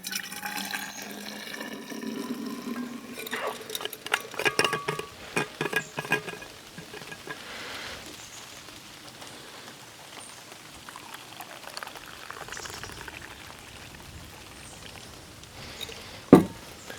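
Water splashing and dripping at a campsite, with scattered patter and drops that are louder over the first seconds, then a steady soft wash, ending in one sharp close knock.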